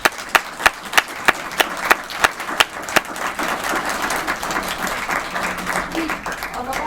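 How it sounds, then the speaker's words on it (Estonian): Audience at an Estonian public transport awards ceremony breaks into applause, beginning with a few sharp, evenly spaced claps that swell into dense, sustained clapping from the crowd, fairly near and steady. "teeme veel kord ühe suure aplausi tunnustuste saajatele"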